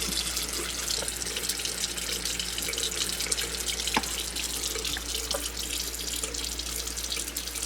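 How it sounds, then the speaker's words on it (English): A kitchen or bathroom faucet runs steadily into a sink, a soft continuous splashing stream with a few faint drips and clicks. No voices break the even flow. "And then demanded water from the faucet because he's spoiled."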